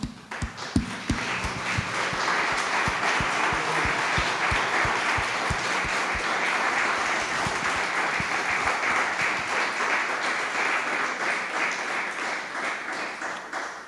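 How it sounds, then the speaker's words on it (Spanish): A church congregation applauds the Lord during a service, a sustained, even wash of many clapping hands, with a few sharp, distinct claps standing out near the start before fading slightly toward the end. "Vamos a darle un aplauso al Señor"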